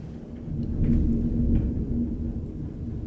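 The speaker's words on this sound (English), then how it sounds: "I've literally never heard thunder like that." Thunder rumbling during a storm in Arizona, a deep low rolling boom that swells and lingers for a few seconds, heard indoors at moderate loudness with no talk over it.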